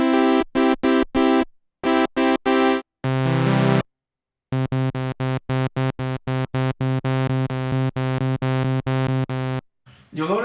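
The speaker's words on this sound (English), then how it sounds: "So comparing the two saw wave oscillators," Sawtooth oscillators on a Moog Matriarch and a Korg Prologue analog synthesizer played in turn, with bursts of short staccato notes, a held tone and long runs of evenly repeated stabs, loud and buzzy, with no voices over it.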